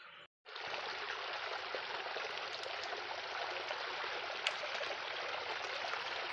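A small stream of water runs down the stone steps of a hill fort in dry weather, a steady, close, broadband rushing trickle that continues unbroken after a brief silent gap at the start.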